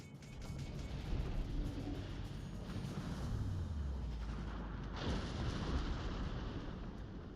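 Warship secondary guns firing in World of Warships Legends with a German battleship, a steady stream of booming, rumbling blasts and explosions layered over one another, dense and continuous rather than spaced out.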